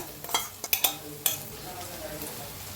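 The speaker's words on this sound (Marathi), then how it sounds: "हे दही मी मिक्स करून घेऊया सगळा मसाला" Yogurt is stirred into chole masala frying in a pan, a soft sizzle under several scraping clatters of a spoon against the pan, close up.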